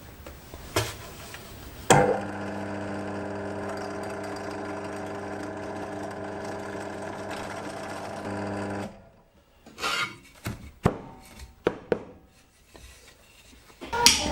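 A bench drill fitted with a spade bit bores holes through wood blocks, a steady loud whirring grind with tonal hum lasting about seven seconds, followed by scattered knocks and clatter of handling the wood.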